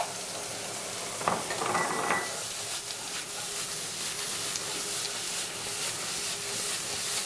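Tomatoes and capers hit a hot pan with a brief burst of crackling and stirring, then settle into a steady, soft broadband sizzle that runs on alone.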